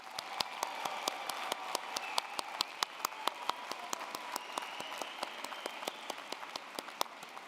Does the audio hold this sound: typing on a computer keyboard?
no